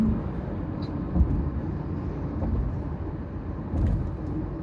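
A Tata Nexon diesel AMT pulling ahead after a downshift, heard from inside as a steady, moderately loud engine and road rumble with no distinct gear changes.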